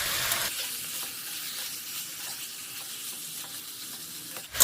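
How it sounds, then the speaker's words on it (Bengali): Chicken pieces sizzle in a hot pan with spices over a medium flame, a steady dense frying hiss with occasional scraping and stirring and a sharp clatter at the very end. "চিকেনটা আমি মশলার সাথে 10 মিনিটের মতো কষিয়ে নেব"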